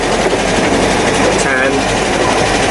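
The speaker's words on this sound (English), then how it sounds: "this engine anyway is a particularly noisy engine" A noisy car engine with badly worn valves runs steadily in second gear at low speed, a loud continuous mechanical clatter and whine filling the whole clip.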